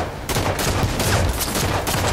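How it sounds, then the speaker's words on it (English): Dense, rapid gunfire from pistol shots in a video game, loud and continuous with overlapping bursts. "I'll fire pistol shots into the air"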